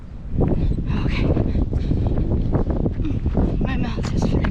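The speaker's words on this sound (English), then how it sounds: "It's very windy." Strong cold wind buffets the microphone in a city setting during a run, a loud continuous rumble with gusty surges, while a person talks over it.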